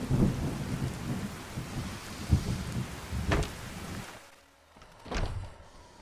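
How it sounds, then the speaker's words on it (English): Rain and rolling thunder heard indoors in the Fallout: New Vegas video game, a steady wash of rain with several deep thunder rumbles that fade, then quiet before another low boom. "Oh, you can hear the rain indoors."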